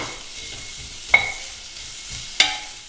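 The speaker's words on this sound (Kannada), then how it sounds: "ಈ ಥರ ಮಿಕ್ಸ್ ಮಾಡಿಕೊಂಡು ಒಂದು ಥರ್ಟಿ ಸೆಕೆಂಡ್ಸ್ ಬೇಯಿಸ್ಕೋಬೇಕು" Lengthwise-sliced onion sizzles gently in a pan while being stirred, with two sharp utensil clinks against the pan over the soft frying hiss.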